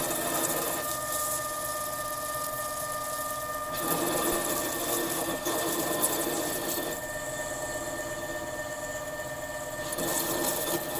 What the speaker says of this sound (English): But we are going to part off here in any second.